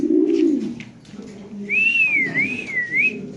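Pigeons kept for sale coo low and soft at the start, then a clear, wavering whistle-like call rises above them before fading.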